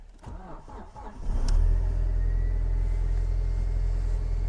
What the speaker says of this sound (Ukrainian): Машина заводиться непогано